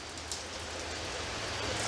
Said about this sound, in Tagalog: Umuulan sa labas, yung banayad lang pero tuloy-tuloy.